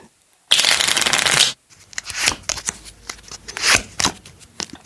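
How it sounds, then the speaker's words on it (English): A deck of playing cards shuffled close up, with a dense burst of riffling followed by softer, irregular card flicks and handling noises. "it's going to be some cards, a deck of cards, that is"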